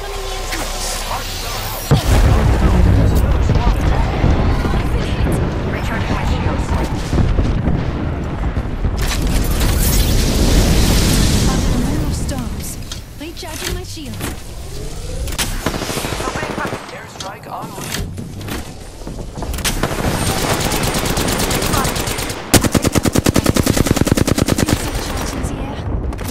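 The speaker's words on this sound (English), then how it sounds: "Opening fire. They spotted me. I'm taking shots." Rapid gunfire in an Apex Legends match, including Peacekeeper shotgun blasts, with loud bursts and sustained automatic fire broken by quieter gaps and booming impacts, under occasional talk.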